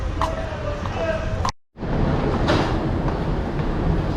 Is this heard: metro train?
yes